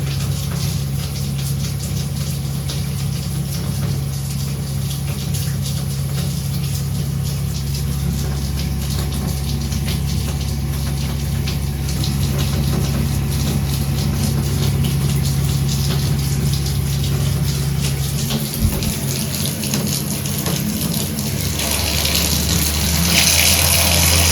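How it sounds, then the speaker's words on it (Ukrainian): A backup water pump runs in a high-rise apartment during a power blackout, giving a steady, continuous low hum and mechanical whir that holds evenly throughout, with a faint shift in tone near the end. "Ось насос спрацює."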